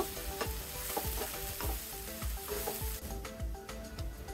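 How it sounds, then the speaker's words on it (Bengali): Half a cup of chopped onion and a cup of chopped potato fry in a pan with a continuous close sizzle, broken by regular spoon-stirring scrapes about twice a second; no voices. "হাফ কাপের মতো পেঁয়াজ দিয়েছি আর 1 কাপের মতো আলু কুচি দিয়েছি। আমি 2 মিনিটের মতো ভেজে নেব।"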